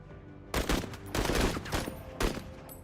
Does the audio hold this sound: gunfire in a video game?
yes